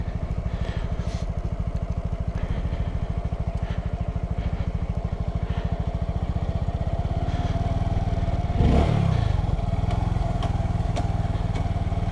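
A motorbike revs hard and steadily through a burnout, ridden without the clutch working properly, its loud pulsing engine note holding for about nine seconds before shifting into a rougher, higher roar near the end.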